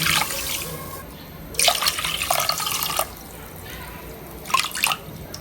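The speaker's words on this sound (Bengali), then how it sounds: "পানি দিব আমি দুই বাটি" Water is poured into a bowl of sugar to make syrup for gulab jamun, heard as two bursts of splashing pouring separated by quieter trickling, fairly close.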